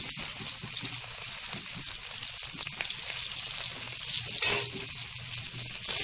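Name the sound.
frying prawns with garlic in oil in a kadai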